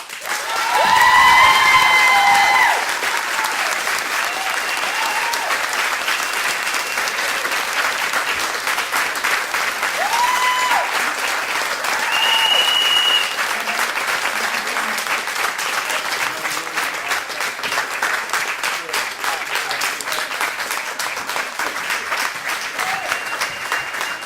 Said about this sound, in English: the more time you spend applauding, the less time we have to debate